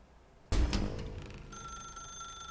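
In The Stanley Parable video game, a sudden loud thump is followed by a telephone ringing with a steady electronic bell tone that persists to the end, with no voices.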